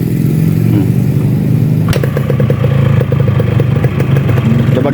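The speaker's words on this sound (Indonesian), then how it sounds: "kita hidupin tanpa harus digas teman-teman, tinggal diselah aja ya" A Yamaha RX-King two-stroke motorcycle, a 2002 bike upgraded to 2004 spec, kick-started without throttle. Mechanical clatter comes first, then a loud rapid burbling idle that keeps up the same beat, close up, with a short spoken remark over the start.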